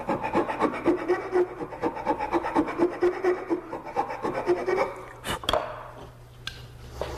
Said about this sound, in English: I file the tenon round with a bastard file